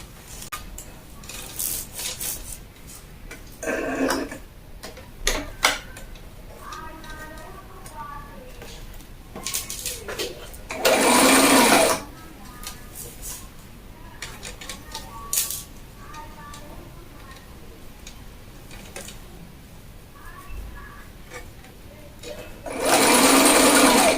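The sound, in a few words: sewing machine stitching sleeve into bodice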